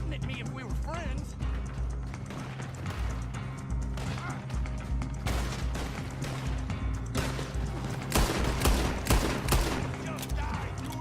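Video game gunfire aimed at the player's character: dense, rapid volleys of shots and crashes fill the scene continuously, loud and close, with game music and voices underneath.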